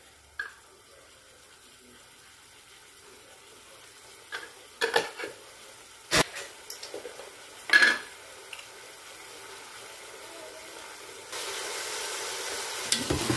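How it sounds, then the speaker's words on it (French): Meat browning in a Cookeo multicooker, a quiet sizzle broken by scattered clinks and stirring knocks, with the frying growing louder near the end and no talk. "Je vais laisser d'abord bien dorer"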